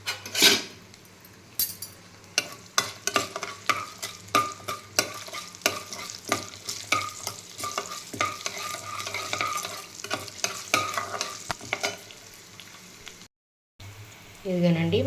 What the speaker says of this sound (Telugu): ఒలిచి పెట్టుకున్న వెల్లుల్లిపాయలు కూడా వేసి దీంట్లో వేయించుకోవాలండి తాలింపు.